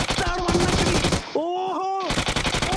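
Rapid gunfire from a mobile battle royale shooter game, dense bursts of automatic shots loud and close, pausing briefly before resuming, with a Malayalam commentator's voice running over the action.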